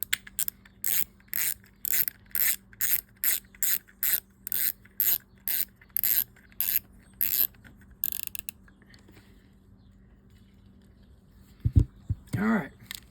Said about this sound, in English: Put the rotor back on, get it to drop down in place, and let's put our drag knob back on.